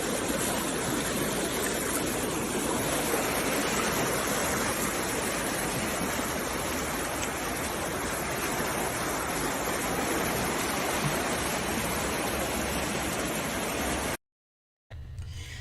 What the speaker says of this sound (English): me standing in the river, um, and just experiencing a little bit of this rushing water